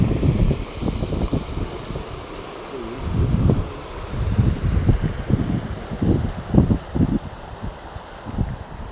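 Water pours over the overflow weir of a full village tank during monsoon rains in August, a loud, continuous rushing roar with surging gusts and buffeting wind noise.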